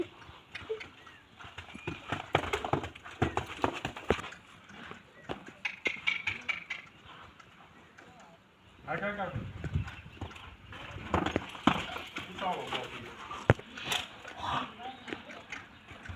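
A horse being trained to walk on two legs clip-clops with uneven hoof steps on hard ground, in irregular bursts. Men call out and talk excitedly over the hooves.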